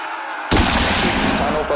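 Gunfire sound effect depicting colonial police firing on a crowd of farmers: a sudden loud crack of shots bursting in after near silence, followed by sustained, rumbling volley noise.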